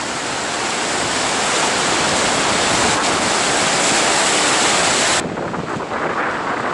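Ocean waves at a beach in Phuket, Thailand, a loud steady roar of surf washing in continuously, with a brief drop as the wash recedes near the end.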